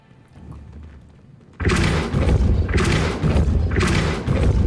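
Forceful spell impacts in Hogwarts Legacy land as heavy, booming thuds, three loud rumbling bursts in succession after a quiet start.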